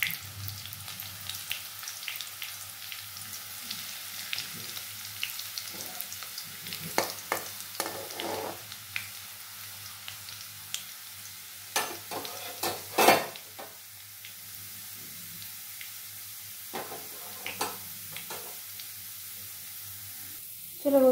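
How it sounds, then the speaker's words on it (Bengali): Chopped garlic fries in oil in a pan over lowered heat, a soft steady sizzle broken by intermittent scraping and clinking as a spatula stirs it, with a low hum underneath. "একটু গ্যাসটা কমিয়ে দিয়ে রসুনটাকে একটু বাদামি কালার করে নেবো।"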